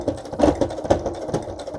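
A sewing machine stitches slowly through thick junk journal pages, a short, uneven run of labored mechanical thumps up close, with no talking.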